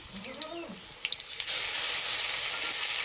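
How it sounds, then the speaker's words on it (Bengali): Ground spice paste hits hot oil with fried potatoes for a rui fish curry, bursting into a loud steady sizzle halfway through, after a few clinks and a brief faint voice. "আলু ভালো করে ভেজে নিয়েছে, এবার দেবো বাটা মশলা"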